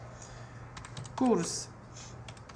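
Close computer-keyboard typing sounds as a run of light, irregular key clicks, with someone speaking over the middle of it.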